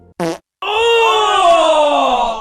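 Comic fart sound effect: a short burst, a brief gap, then a long, loud, drawn-out blat that sags slowly in pitch and fills the rest of the moment alone.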